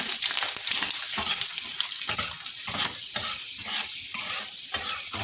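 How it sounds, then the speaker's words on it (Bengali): Bay leaves and panch phoron spices frying in hot oil, with a steady bright sizzle and repeated scraping strokes of a spatula as the pan is stirred, close and fairly loud. "আমি এখন পুরনে দিয়ে দেবো 3টে তেজপাতা, 5 ফোড়ন। একটু নাড়িয়ে নেব।"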